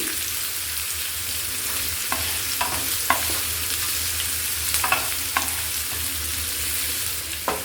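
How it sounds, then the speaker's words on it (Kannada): Onions and curry leaves fry in a pan for a simple cauliflower palya, a steady close sizzle with scattered scraping stir strokes and small pops throughout, no voices. "ಈರುಳ್ಳಿ ನೋಡಿ ಚೆನ್ನಾಗಿ ಫ್ರೈ ಮಾಡಬೇಕು"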